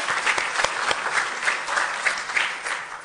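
Audience applause at a women in environmental sciences event, a sustained moderate wash of many people clapping with a few sharper claps standing out near the listener, steady and without talk.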